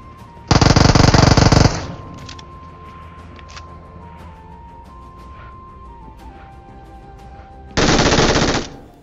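Two loud bursts of rapid automatic gunfire in a mobile shooter game, one long burst near the start and a shorter one at the end, with quieter game ambience in between.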